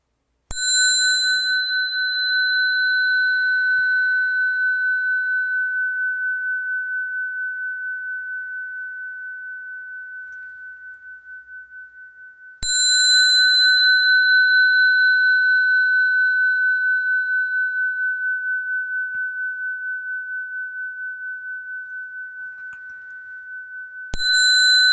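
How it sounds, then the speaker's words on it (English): A meditation bell is struck three times, each a clean, bright strike whose pure tone rings out and fades slowly through long, quiet gaps. "And just listen to the bell."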